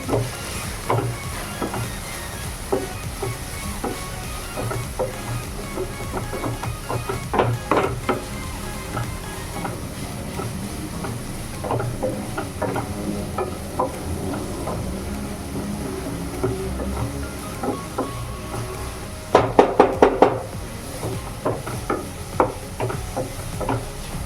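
Onions sautéing with salt in a pan for a soya chunks roast, a steady close sizzle and crackle broken by intermittent spatula scrapes and stirring clatters, with a brief louder burst of clinks near the end; no talking.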